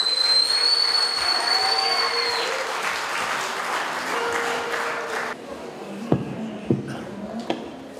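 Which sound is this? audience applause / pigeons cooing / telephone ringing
audience applause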